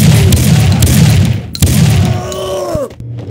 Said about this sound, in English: I can still hear gunshots